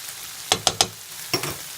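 Spiced Pakistani chicken with tomato paste is stirred in a pan: three quick scraping strokes, a pause, then two more, over a faint background sizzle.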